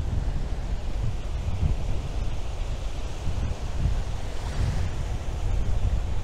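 Atlantic Ocean waves wash onto a Uruguay beach in a continuous rushing surf, with wind buffeting the microphone and no talking.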